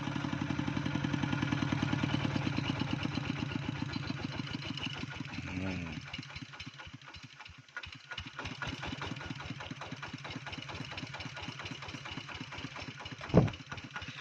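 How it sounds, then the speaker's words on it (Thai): A motorcycle engine idles steadily and fairly close with a rattling, pulsing drone in a quiet village, shifting pitch partway through, with a sharp knock near the end. "โอ้ยได้ยินแต่เสียงรถ"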